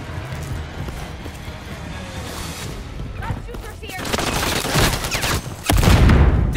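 Bursts of gunfire from the video game Modern Warfare 3 beta, dense and loud with heavier booming shots near the end, mixed with game voice callouts.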